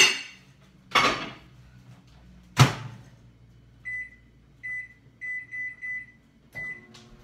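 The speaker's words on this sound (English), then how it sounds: "I'm going to put this in the microwave for 10 minutes" A kitchen microwave oven used to heat chicken: two loud clunks of the door and dishes, then a series of short electronic keypad beeps as it is set, with a low hum underneath.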